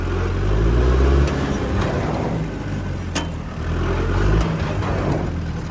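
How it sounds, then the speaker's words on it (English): A tractor in four-wheel drive with its drivetrain locked is skidded, giving a loud, close engine rumble that swells, dips midway and surges again. "We'll skid them one more time."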